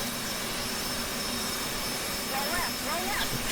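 An F/A-18C jet engine spools up in the DCS flight simulator game, a steady roaring whine with a thin high tone on top and a faint voice late in the clip.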